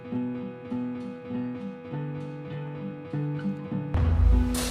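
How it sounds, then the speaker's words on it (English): Soft, sparse piano notes with gentle guitar accompaniment playing a slow, quiet passage, ending in a brief burst of broader noise. "So it starts out with just piano and guitar. It's a very quiet piano part."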